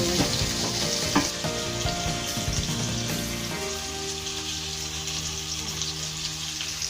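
Onions fry in oil for wet fried broiler chicken, a dense, continuous sizzle with crackles and a few stirring clatters early on, close and fairly loud, with no voices.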